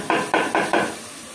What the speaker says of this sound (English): here I'm going to add my tomatoes which I blended